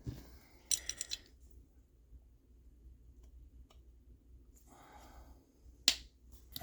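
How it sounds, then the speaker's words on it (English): Two crisp clicks as a part on a Novarossi Gimar P5 .21 nitro engine snaps into place, a quick cluster early on and a single sharp snap later, close and isolated against a quiet background. "You heard that snap down into place."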